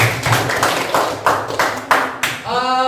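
Applause for a student group in a classroom: a few seconds of scattered, uneven hand claps with sharp bursts, then a voice starts speaking at the end.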